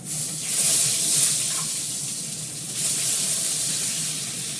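Potatoes sizzle in hot oil in a pan, a steady close hiss with swelling and easing intensity, no voices.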